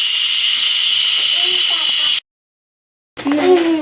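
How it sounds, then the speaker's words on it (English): Steam blasts out of a pressure cooker while dinner is being cooked, a loud steady hiss that cuts off abruptly, followed by a pause and then clattering kitchen sounds and a voice. "The 30 minutes is up, so I'm going to let that steam out so we can open it up and look inside."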